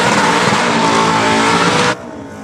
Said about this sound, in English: Just checking out this blue VK with the big turbo.